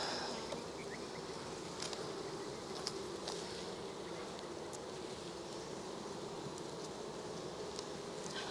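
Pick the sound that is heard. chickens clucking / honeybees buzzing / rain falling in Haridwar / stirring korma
honeybees buzzing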